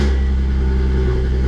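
An Audi S4, fresh from a manual transmission swap and raised up in the air, runs its engine with a loud, dense, steady close rumble through the short moment.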